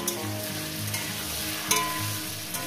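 Potatoes with turmeric fry in a hot pan, giving a steady close sizzle with occasional stirring scrapes and clinks, with no one talking.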